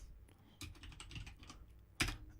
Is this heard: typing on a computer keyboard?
yes